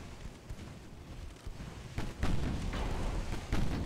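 Naval gunfire and high-explosive shell hits on a warship's main armor belt in Ultimate Admiral Dreadnoughts, a steady rumble of battle with heavier booming impacts starting midway and repeating toward the end.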